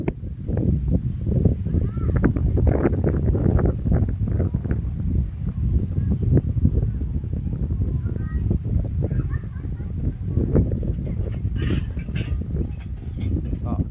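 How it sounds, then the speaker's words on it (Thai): Strong monsoon wind blows steadily at a riverside campsite, a loud, continuous low rumble that buffets and gusts for the whole stretch, with faint bird calls now and then. "ลมค่อนข้างแรงนะครับในช่วง ฤดูมรสุมนะครับ"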